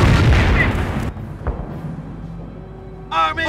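Weapons firing during a Company of Heroes battle at Montebourg: heavy booming shots and rumbling blasts open loudly, fade into a low rumble with a lone thud, and a unit voice cuts in near the end.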